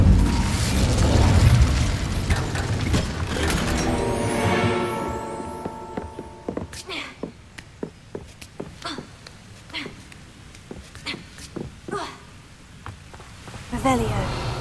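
A spell being cast in Hogwarts Legacy with loud rumbling bursts and crackling, then a run of sharp pops and cracks that come in irregular bursts, with a voice speaking over it.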